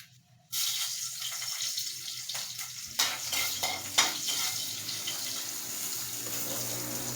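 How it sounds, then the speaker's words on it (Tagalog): Vegetables are sautéed in a hot pan, starting with a sudden loud sizzle that continues as a steady hiss, with occasional scrapes and stirring clatter close by. "Ito po, igigisa ko na po. Yan. Igisa na natin."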